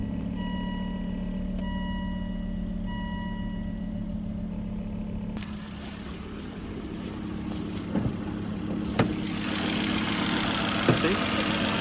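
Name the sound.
car engine idling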